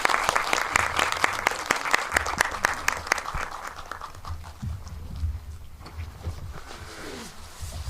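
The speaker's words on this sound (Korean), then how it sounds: "큰 박수로 맞이해 주세요." Audience at a film screening talk applauding to welcome guests onstage, sharp close claps at first that thin out and fade over several seconds, with a few scattered claps and low room noise.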